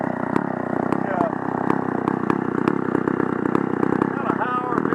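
An engine held at high revs with a steady, buzzing drone that stays loud and even throughout, while people talk nearby over it.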